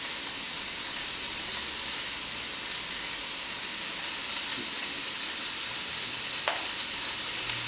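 Cabbage dumped into a hot pan sizzles in a loud, continuous hiss of frying that holds steady throughout, with a few faint clinks over it.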